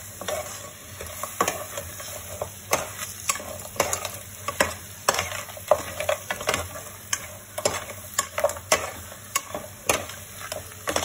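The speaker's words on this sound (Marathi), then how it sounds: "तिखटा टाकल्यावर मसाल्यामध्ये परतून घ्यायचंय छान" Crab curry masala sautéing in a pan, a steady sizzle and fry broken by frequent scraping stirs of a spatula against the pan, close and fairly loud with no talking.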